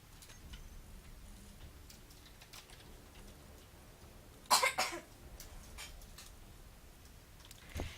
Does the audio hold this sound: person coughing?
yes